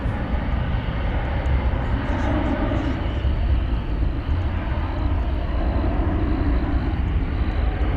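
Airliner taking off at DFW Airport, a loud broad continuous jet engine roar sustained steadily throughout, heard outdoors from a plane-spotting spot.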